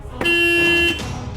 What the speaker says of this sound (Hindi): ये जो गाड़ी है ना, ये जो आ रही है, हॉर्न बजा रही है